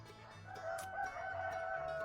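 Chickens vocalizing faintly nearby, drawn-out calls with a tonal, crowing quality over a quiet background hum.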